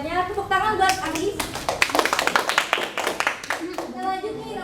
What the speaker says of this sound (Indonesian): Tepuk tangan buat Anggis.